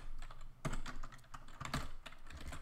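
Quick, light keystrokes on a computer keyboard while entering a system call number in Linux kernel code, soft close-up tapping in short bursts with brief pauses.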